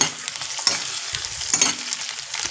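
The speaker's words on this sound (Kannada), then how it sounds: "ಈರುಳ್ಳಿ ನೀಟಾಗಿ ಫ್ರೈ ಆಗ್ತಾ ಇದೆ ನೋಡಿ" Onions with curry leaves frying in a pan for okra gojju, a bright steady sizzle broken by occasional scrapes and clinks of a stirring spoon, close and fairly loud, with no voices.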